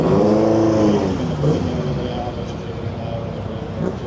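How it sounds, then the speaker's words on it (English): A Lancia Fulvia Zagato rally car drives by at the Targa Florio, its engine note rising and then fading over roughly four seconds, with someone talking over it the whole time. "look at that, Lancia Fulvia Zagato, a very special car."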